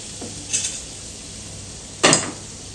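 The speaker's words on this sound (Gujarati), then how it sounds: "હવે આપણે થોડું બટર લઈશું તવા પર" Butter melting on a hot tawa griddle for paratha gives a soft, steady sizzling hiss, broken by two brief, louder clinks of a utensil against the pan.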